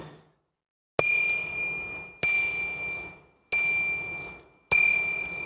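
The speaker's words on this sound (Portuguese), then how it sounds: "Aqueles navios antigos não tinham buzinas, eles usavam sinos." A ship's bell rings four times at an even pace, each bright metallic strike ringing out and fading before the next, alone against silence.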